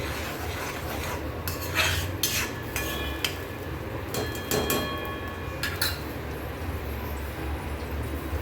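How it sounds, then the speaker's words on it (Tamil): Tomatoes being stirred in a pan with a utensil, giving intermittent scraping and clinking strokes against the pan over a steady low background hum, close and moderately loud, with no talking. "தக்காளியோட பச்சை வாசனை போகிற அளவுக்கு நல்லா கிளறிக்கலாம்"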